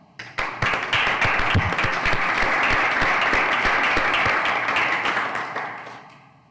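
Applause for a retiring council member at a village council meeting: a dense room of clapping hands rises quickly, holds steady for several seconds, then tapers off.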